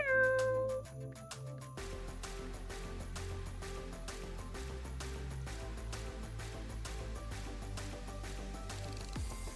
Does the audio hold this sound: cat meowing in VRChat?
yes